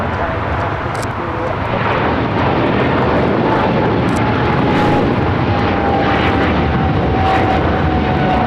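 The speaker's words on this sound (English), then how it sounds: "This is China Airlines Cargo 5137 taking off to Taipei on a 777 freighter." China Airlines Cargo Boeing 777 freighter taking off at LAX, a loud, sustained roar of jet engines that swells and holds steady, with a faint whine above it.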